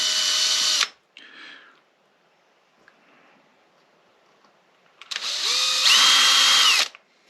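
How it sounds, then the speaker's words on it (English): Two short bursts of a small high-pitched power drill whirring into ukulele wood about 1/8 inch deep, spinning up and winding down, separated by a few seconds of near silence. "You also want to make sure you're drilling straight in, about 1/8 of an inch deep."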